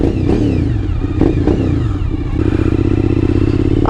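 A Suzuki V-Strom 1000 motorcycle engine idles loudly and steadily up close, with a rough, throbbing low rumble and a couple of brief revs near the start.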